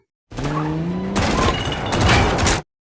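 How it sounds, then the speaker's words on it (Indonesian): Gangsters trade gunfire from moving cars in an action scene from the 2023 film Silent Night: loud, dense bursts of shots over revving engines and screeching tires. "Tiba-tiba terdengar suara tembakan yang ternyata para anggota gangster sedang saling baku tembak sambil mengendarai mobil."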